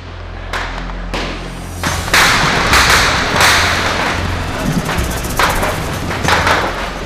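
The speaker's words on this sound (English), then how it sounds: "A deadly shootout in Congo's capital, Kinshasa." Gunfire in a street shootout in Kinshasa, Congo, a string of sharp cracks and booming reports, some close and loud, others more distant, ringing out over a rumbling low background.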